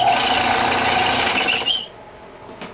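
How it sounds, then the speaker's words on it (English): A Harbor Freight belt sander in a woodworking shop runs loudly with a steady abrasive whir, then cuts off near the end and leaves a quieter room tone. "And here is my Harbor Freight belt sander."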